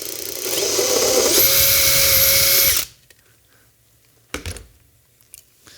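A power drill boring a hole at an angle while installing electronics, whining loudly for about two seconds and then stopping abruptly, followed by a few faint clicks and handling noises.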